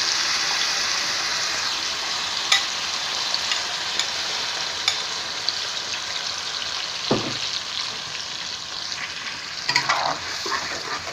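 A homemade spice paste dropped into hot oil in a home kitchen: steady, loud sizzling and frying throughout, with occasional clinks and scrapes from stirring.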